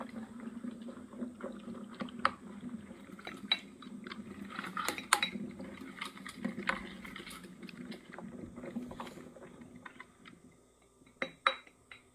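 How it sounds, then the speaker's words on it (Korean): A container of fermenting green plum (maesil) syrup is stirred, with soft sloshing and scattered clinks and taps against the vessel over a low, steady background, close and fairly quiet. "마지막까지 열심히 발효가 구석구석 잘 이루어지도록 저어줍니다."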